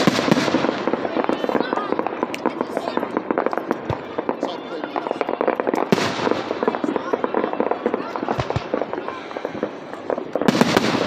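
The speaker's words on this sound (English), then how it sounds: "Oakland Beach. 2022 fireworks." Fourth of July fireworks at Oakland Beach in 2022 burst repeatedly in loud, crackling explosions, with a few sharper bangs standing out. Spectators talk throughout.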